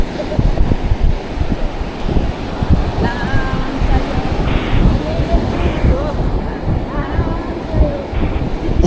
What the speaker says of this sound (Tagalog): Palaki talaga yung alon